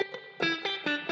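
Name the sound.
Accutronics spring reverb tank factory sound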